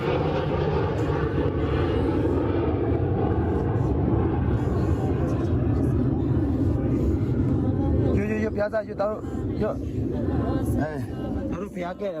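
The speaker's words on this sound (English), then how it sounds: "But the plane circles back." A propeller plane drones steadily overhead, its engine hum rising and falling, with voices speaking over it toward the end.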